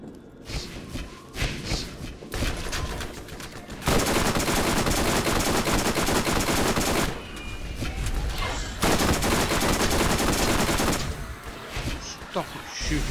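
Sustained bursts of automatic gunfire from the video game Borderlands, loud and dense in long stretches with brief lulls between volleys, while players talk over it.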